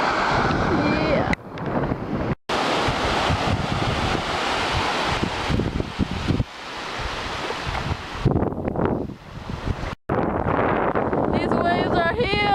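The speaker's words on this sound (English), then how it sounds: "These waves are huge." Big ocean waves surge and crash on a beach at Ocean Shore on a very windy day, with heavy wind buffeting the microphone and cutting out in bursts, and brief voices in the mix.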